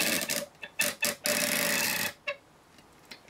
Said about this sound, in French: je vais mettre un bout de scotch d'ici à ici